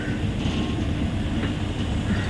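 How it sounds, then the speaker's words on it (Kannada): A passenger train pulls out of the station with a loud, steady rolling rumble and clatter of the carriages heard from on board. "ಟ್ರೈನ್ ಹೊರಡ್ತಿದೆ ಈಗ"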